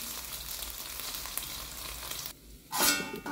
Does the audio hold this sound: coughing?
no